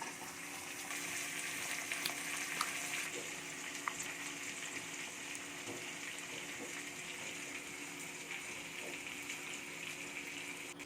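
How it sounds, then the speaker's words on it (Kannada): Cut brinjal pieces fry in oil, giving an even, soft hiss that runs steadily throughout with a few faint taps and clinks in the pan. "ಈಗ ಬದನೆಕಾಯಿನ ಸೇರಿಸ್ಕೊಳ್ತಿದ್ದೀನಿ. ಒಂದು 3 ರಿಂದ 4 ನಿಮಿಷ ಚೆನ್ನಾಗಿ ಎಣ್ಣೆಗೆ ಹಾಕಿ ಫ್ರೈ ಮಾಡ್ಕೊಳ್ಳಿ."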